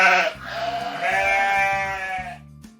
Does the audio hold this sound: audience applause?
no